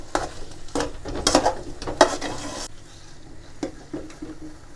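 A thick traditional Tamil thothal sweet being stirred with oil in a pan, a few scraping, sticky stirring strokes at irregular intervals, close and moderately loud.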